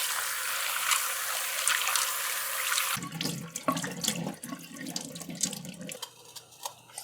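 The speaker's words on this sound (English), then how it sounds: "next we're going to wash the dal and put that to boil" Tap water runs hard into a pot as dal is washed, a loud steady rush for three seconds, then stops and gives way to sloshing, swirling and rinsing sounds of the lentils being stirred in water.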